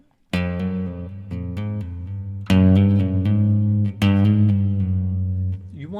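An electric guitar plays a legato phrase the wrong way, with every pick attack clearly audible. Sharp plucked notes arrive in distinct bursts and ring out cleanly, close and alone.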